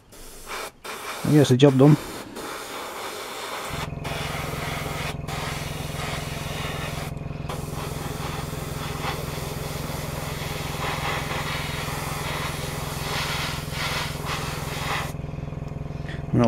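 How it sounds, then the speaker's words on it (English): Cheap airbrush spraying a light mist coat on a Bandai 1/48 scale AT-ST model kit, a steady continuous hiss running unbroken for most of the clip after a few brief clicks and short bursts at the start. "This airbrush is just a cheap and nasty one for about 15 quid off eBay"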